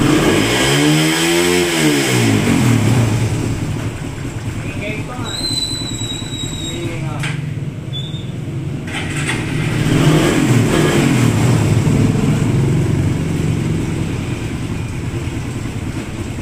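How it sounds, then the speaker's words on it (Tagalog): Raider 150 carburetor-type motorcycle with a fault that makes it struggle to pull, its engine running and revving up and down close by, with some talk over the engine noise. "So yung motor niya is Raider 150 Carb Type reloaded."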